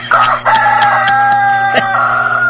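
A talisayon fighting rooster crows loudly and close by in one long, sustained call with a harsh, strained tone and a few sharp clicks scattered through it.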